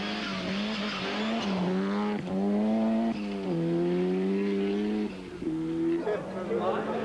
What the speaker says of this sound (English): Behind came the Mazda of Thorsel, running in Group A instead of Group N